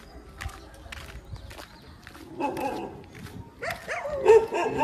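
A dog barks a few times in the later part, mixed with shuffling footsteps and a nearby voice.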